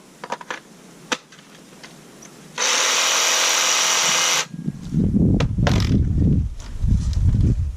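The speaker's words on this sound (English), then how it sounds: "The Sawzall." A corded Sawzall reciprocating saw at an off-grid cabin build site runs in one loud, steady burst of nearly two seconds, framed by light knocks before and rumbling handling noise after.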